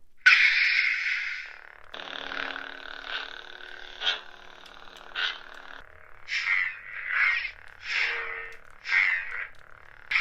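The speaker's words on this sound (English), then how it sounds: "the Sith definitely has a louder activation" A Galaxy's Edge Count Dooku lightsaber toy, comparing the Jedi and Sith versions, with a bright electronic ignition whoosh followed by a sustained buzzing hum and a series of short swelling swings and bursts, close up and fairly quiet, with no talking.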